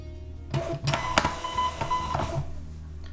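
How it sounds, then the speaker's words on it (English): A Rollo thermal shipping label printer feeds and prints a label, giving close, steady mechanical whirring with a thin motor whine and a few sharp clicks over about two seconds, then trailing off, with no talking. "let me start out by printing a label, and then I'll go through some of the features with this cool printer."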